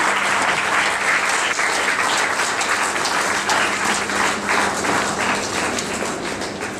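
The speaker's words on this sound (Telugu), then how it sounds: "ఒకసారి హాల్ దద్దరిల్లిపోయేలాగా చప్పట్లు కొట్టాల్సింది కోరుతుంది" A crowd fills an awards-ceremony hall with dense, loud, continuous clapping that holds steady throughout without easing.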